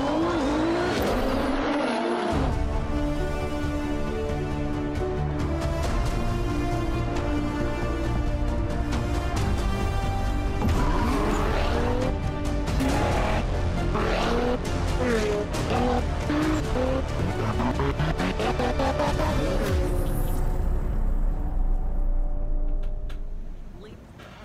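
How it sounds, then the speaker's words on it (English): A Nissan 400Z sports car's exhaust roars continuously with rising and falling revs and squealing tires while drifting, loud and sustained, then cuts off at the end. "you get a lot of exhaust noise and what this car is actually going to sound like"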